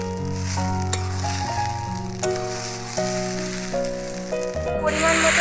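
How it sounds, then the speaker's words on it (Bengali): Rice lightly frying in a pan for Bengali aloo pulao gives a steady, soft sizzle under background music, with a few light stirring clicks. "এখানে আমি চালটা হালকা ভেজে নেব, আর চালটা বেশি ভাজলে হবে না, হালকাই ভাজবো।"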